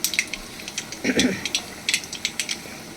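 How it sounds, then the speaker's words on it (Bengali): Mustard seeds pop and sizzle in hot oil in a pan while a vegetarian banana-stem dish is cooked, with close, sharp crackles and spits in quick irregular bursts. "এবার আমি এই তেলটার মধ্যে এই সর্ষেটাকে দিয়ে দিলাম"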